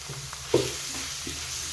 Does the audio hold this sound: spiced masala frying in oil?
yes